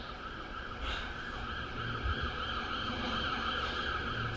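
An ambulance siren wails steadily in an urban stage scene, a sustained tone under a road-traffic rumble, moderately loud and with no talk over it.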